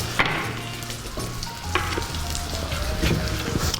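Food cooking on low heat in a pan gives a steady sizzle and frying crackle, with occasional stirring clatter and faint pops running throughout.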